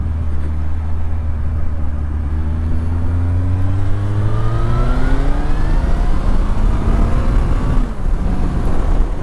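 Suzuki Bandit 1250 N motorcycle from 2009 accelerating through the revs, a close, loud engine note rising steadily in pitch in one long pull before easing off at the end.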